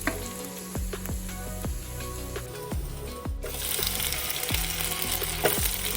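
Garlic sizzles in butter and olive oil in a pan, a steady close frying hiss broken by several sharp scrapes and knocks of a utensil stirring, with no voices.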